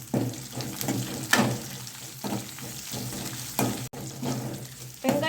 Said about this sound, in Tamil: இது கூடயே ஒரு கொத்து கருவேப்பிலை சேர்த்துக்கலாம். சேர்த்துட்டு நல்லா மிக்ஸ் பண்ணிக்கலாம்.